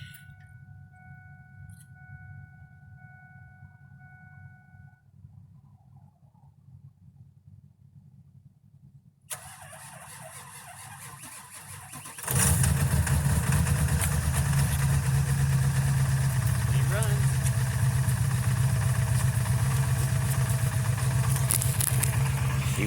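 A 7.3 diesel engine with 506k miles sits quiet at first, then cranks over and catches on a cold start. It settles into a loud, steady, close clattering idle that continues to the end, with no voices.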